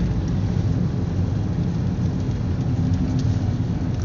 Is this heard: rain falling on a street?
yes